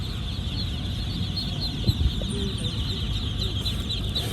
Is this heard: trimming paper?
no